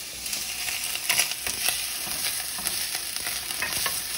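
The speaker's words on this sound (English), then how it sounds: "It's starting to sizzle on top." Chopped onions and garlic sizzle in a hot pan with a steady crackling hiss, broken by several scraping stirs across the pan, close and alone without any voices.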